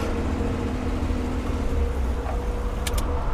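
A car driving up and idling after a test drive, its engine a low steady rumble filling the clip, with a couple of brief high chirps near the end and no speech.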